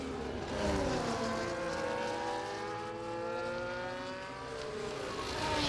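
Racing cars roar through the F1 24 video game at the Japan round, a loud, continuous engine whine with rising and falling pitch sweeps as cars accelerate and shift, several engines overlapping.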